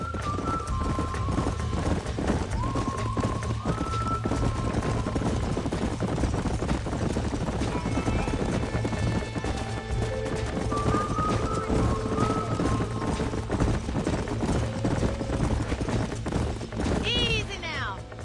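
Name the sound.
horses trotting, from video game Red Dead Redemption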